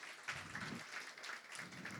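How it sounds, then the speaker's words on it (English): An audience at a women's banking launch event applauds itself, a short burst of scattered hand clapping heard at moderate distance in a full room. "Let's clap for ourselves."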